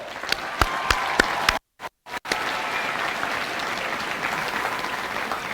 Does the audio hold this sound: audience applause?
yes